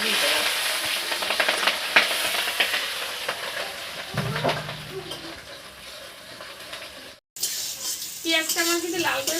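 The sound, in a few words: onions frying in hot oil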